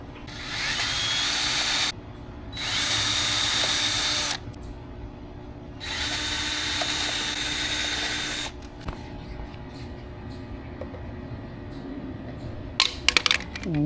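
A power drill drives fasteners into a Blue Wave pool fence outdoors in three loud, steady whirring bursts of about two seconds each, separated by pauses, followed by faint clicks and knocks.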